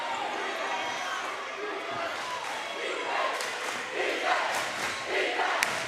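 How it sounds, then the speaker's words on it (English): A crowd roars and cheers in a high school gym during a close Yulee versus West Nassau basketball game, loud sustained noise with shouts rising and falling, under a commentator's voice. "Crowd's alive."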